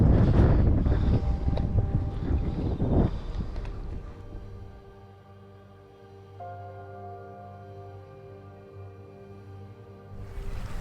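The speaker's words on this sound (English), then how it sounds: "the wind is lashing down" Strong gusts buffet the microphone at a lakeside carp fishing spot, a loud roaring rush for the first few seconds that eases into a low steady drone, then swells again at the end.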